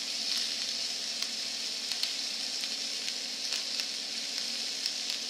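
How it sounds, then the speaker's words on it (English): Beer poured into a hot pan to deglaze it while making poutine, giving a steady, close sizzle and bubbling hiss with small crackles and scraping ticks throughout, with no talk. "my beer in there and start deglazing the pan"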